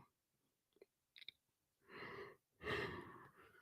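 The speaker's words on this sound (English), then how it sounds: "I just started yawning." A person yawns softly, a couple of faint clicks and breaths followed by two long, drawn-out airy exhalations, close and quiet, with no talking.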